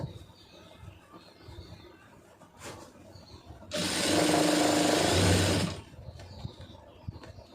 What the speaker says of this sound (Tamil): கரெக்டாக ஒரு 1/4 இன்ச்சு விட்டு தையல் போட்டுருங்க